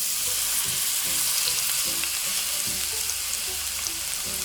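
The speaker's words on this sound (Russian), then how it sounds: "Выкладываем наши баклажаны на сковородку." Eggplant slices sizzle and crackle steadily in hot oil in a pan, a continuous close frying hiss with small pops throughout.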